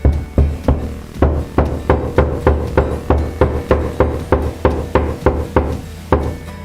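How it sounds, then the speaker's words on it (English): A hammer taps a wall anchor flush into a wall, about sixteen sharp, evenly spaced knocks in a steady rhythm, close and fairly loud, with no talking. "I'm going to pick up my hammer, and I'm going to again gently tap it into place."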